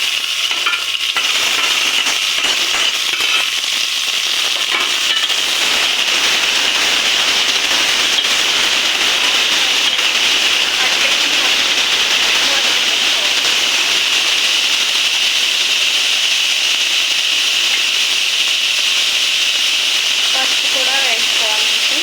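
Beans fry in a pan for a dry curry, giving a steady, close sizzling hiss throughout with scattered soft stirring clicks and no talk over it.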